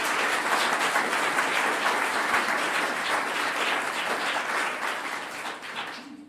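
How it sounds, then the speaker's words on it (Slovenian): Audience applause after a live performance at a building opening ceremony: dense, steady clapping from a crowd that gradually thins and fades at the end. "Nagradimo ju še z enim aplavzom"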